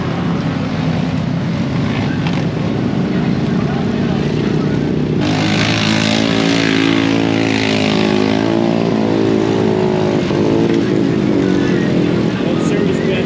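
Off-road vehicle engine revving hard while stuck in deep mud at a mud park, a loud sustained drone that climbs in pitch, with people talking over it.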